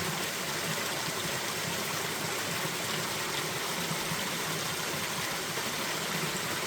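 A mountain valley stream at Hwaaksan, behind Daechon village between Miryang and Cheongdo, flows in a steady, even rush of water, soft and continuous with no voices.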